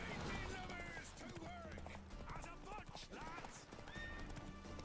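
Horse hooves clatter in a rhythmic gallop during Witcher 3 gameplay, mixed with whinnies, combat effects and music, while a player talks over the game sounds.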